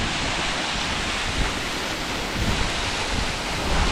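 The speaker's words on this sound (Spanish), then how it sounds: "aquí ya vemos la cascada" Cotatuero waterfall in Ordesa roars as a loud, continuous broadband rush of falling water, with some wind buffeting the microphone.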